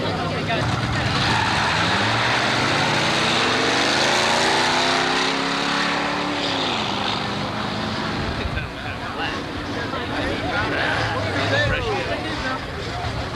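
An antique drag race car at Carlsbad Raceway during a 1990 San Diego antique drags event roars down the track, its loud engine note climbing in pitch and then levelling off, with crowd babble and other engine noise behind it.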